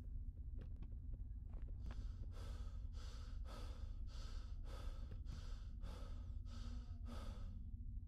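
A video game character breathes heavily in a steady run of about seven rhythmic, airy breaths over a constant low background hum, close and fairly loud.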